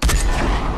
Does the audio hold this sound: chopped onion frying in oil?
no